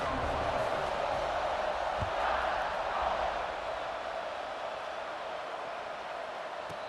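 Steady roar of a stadium crowd in EA Sports College Football 26, a broad wash of cheering as the kickoff follows a touchdown, holding constant throughout without any commentary over it.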